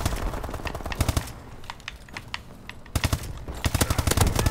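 Rapid bursts of automatic gunfire from Call of Duty Advanced Warfare, loud and close. The volleys come in clusters with short pauses between them, then a dense run near the end.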